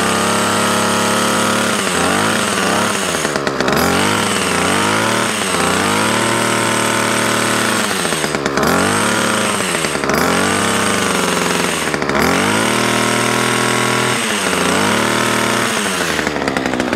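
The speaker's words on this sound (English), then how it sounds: "the machine still running, you can tip the blades in slightly" Titan TTK587GD0 petrol multi-tool with hedge trimmer attachment running continuously, a loud, close, buzzing two-stroke engine whine that rises and dips in pitch as the throttle changes, with no speech.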